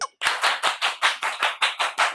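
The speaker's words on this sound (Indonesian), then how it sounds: "Tepuk tangan untuk kita semua." A class of junior high students claps in unison in a classroom, about ten sharp, evenly spaced group claps in a quick steady rhythm, loud and close.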